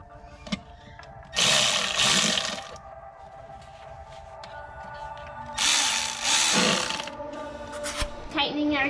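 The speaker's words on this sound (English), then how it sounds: "Tightening everything up, you gotta tighten it good, but not too much because you don't want to strip it" Bolts on a BMW E28 valve cover are tightened with a ratchet, giving two long bursts of rapid clicking from close by, separated by quieter metallic taps and handling sounds.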